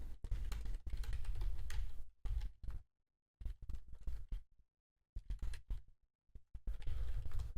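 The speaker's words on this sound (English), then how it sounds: "If you do hear me typing, that's just me making alerts in my private trading community." Bursts of computer keyboard typing at a trading desk, rapid clustered keystrokes in several runs separated by short silences, close and fairly loud.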